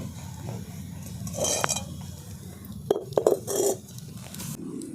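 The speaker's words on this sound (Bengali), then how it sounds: "উনুনটা ধরে দিয়েছি, কড়াটা বসিয়ে দিচ্ছি" A kadai set down on a lit stove, a few metallic clanks and knocks of the pan against the burner, close and fairly brief, amid quiet kitchen noise.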